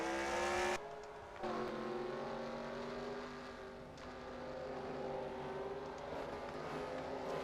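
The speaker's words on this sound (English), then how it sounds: "there goes Hamlin right there in the 5 car" Stock cars roar past in a NASCAR Racing 2003 race at the Ford EcoBoost 400, a steady high engine drone with a sharp cut as one car passes, then continued whining revs.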